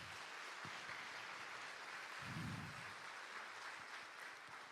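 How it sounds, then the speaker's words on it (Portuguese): Faint applause from a congregation inside a parish church during Sunday Mass, heard as a soft, even patter of many hands at a distance, with a low thump partway through. "Uma salva de palmas à palavra de Deus"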